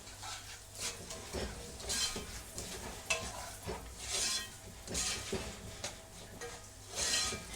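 Garlic and green scotch bonnet pepper fry in a pot with a low, continuous sizzle under repeated stirring and light utensil clinks.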